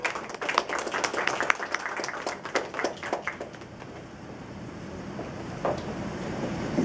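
An audience at a literary festival launch gives a round of clapping for sponsors, sharp dense claps that thin out and fade after a few seconds, leaving room noise.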